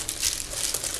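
Crinkly plastic of an Amazon Prime mailer bag being torn open, a short burst of close, bright rustling and ripping, with no talking.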